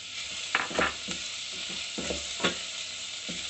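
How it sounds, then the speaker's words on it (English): Onions sautéing in a pan for a tomato sauce base, a steady faint sizzle with a few soft stirring scrapes and clinks spread across the span, heard alone without talk. "After the onions sauteed a bit, we're going to add in garlic."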